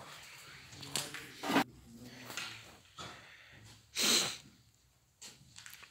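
Several sharp bursts of sneezing and snorting nasal sniffs, close and fairly loud, with quiet breathing in between.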